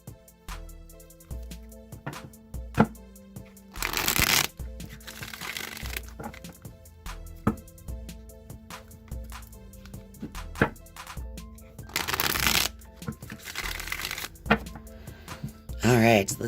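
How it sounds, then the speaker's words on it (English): Rider-Waite tarot deck being shuffled in repeated bursts of riffling and card slaps, several distinct shuffles spread across the span, with soft handling clicks between them and no talking. "Now I'm going to shuffle the Rider-Waite deck"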